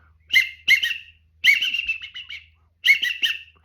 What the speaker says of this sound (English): I show them how you can make so many different duck calls with it